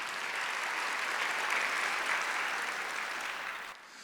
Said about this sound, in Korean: 깨닫는 사람만 박수 한번 쳐보세요.